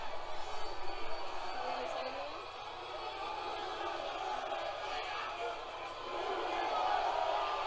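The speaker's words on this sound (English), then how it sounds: "Mixed reaction from the crowd. You deserved it, and just cheers and boos and everything" Large WWE arena crowd at Elimination Chamber 2019 roaring with mixed cheers and boos, a steady dense wash of distant voices that swells near the end, with a nearby voice talking over it.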